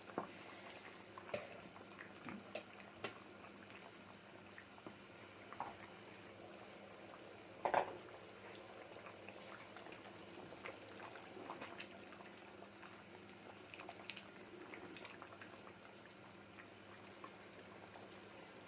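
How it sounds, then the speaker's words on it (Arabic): Mabakbaka pasta with sausage bubbles in a pot, a soft continuous simmer heard faintly and alone, with a single sharper click partway through. "المبكبكه كده لازم تبكبك، عشان هي كده اسمها مبكبكه، هي بتبكبك اهو"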